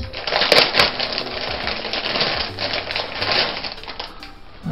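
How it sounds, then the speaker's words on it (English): Scissors snipping open a Pokémon trading card pack, a run of sharp crinkly plastic-foil cuts and rustles up close, with a few crisp clicks and crackles and no talking. "I'll use my scissors. When in doubt, use scissors."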